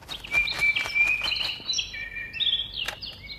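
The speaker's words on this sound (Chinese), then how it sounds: "哎，一窝小鸟。" A brood of little birds in a nest chirps in high, rapid tweets that overlap continuously, with several sweeping and trilling calls close up and fairly loud throughout.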